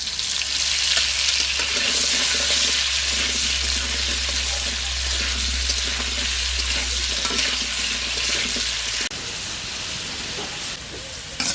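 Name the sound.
potatoes frying in oil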